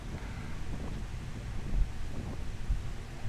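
Strong wind blows steadily across the microphone at an outdoor hilltop spot, a continuous rumbling, buffeting roar with no voices.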